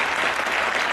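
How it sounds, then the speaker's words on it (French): Audience applause during a trading conference, a brief, dense burst of steady clapping from the room. "Quelques applaudissements pour eux s'il vous plaît."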